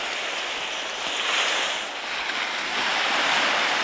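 Ocean surf on a beach on the Toyama coast in Japan, a steady loud broadband wash of waves with gusts of wind buffeting the microphone, no voices.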